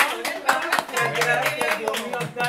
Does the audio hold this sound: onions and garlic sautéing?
no